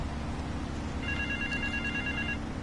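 An old telephone rings in Grand Theft Auto 3, one shrill electronic trill lasting about a second over a steady background rumble.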